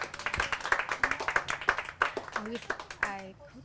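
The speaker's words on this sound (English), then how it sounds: "So a big round of applause to Kamana and Zia." A small group claps in a loose, uneven round of applause at a holistic chef gathering, with distinct individual hand claps close by and a voice talking briefly over the end.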